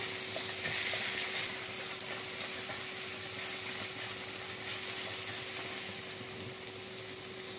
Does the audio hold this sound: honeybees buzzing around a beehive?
no